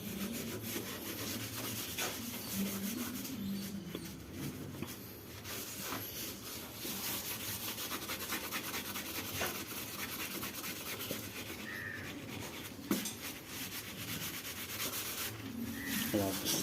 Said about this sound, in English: We're almost 20 minutes in and we're still scrubbing.